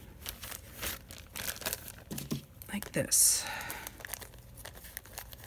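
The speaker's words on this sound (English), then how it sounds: "take one of your bags, stick it in the bag, squish the air out" A plastic bag crinkles and rustles up close in bursts as it is squeezed and handled, while a person speaks briefly.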